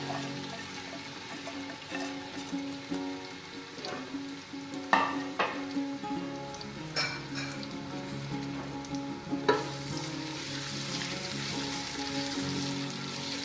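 Chopped onions fry in about half a cup of oil in a large pot, a steady sizzle running throughout with occasional sharper scraping stirs.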